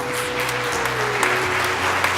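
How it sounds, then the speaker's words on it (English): Applause fills the hall at a women's sports equality summit as athlete advocates leave the stage, with steady dense clapping from a sizable audience throughout, a faint tonal hum running underneath. "would you please join me in giving another round of applause?"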